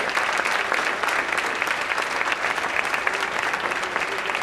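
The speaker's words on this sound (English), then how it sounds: "Let's give them all a big round of applause" A school audience at a senior awards night claps hard and steadily, a dense roar of hands filling the room throughout.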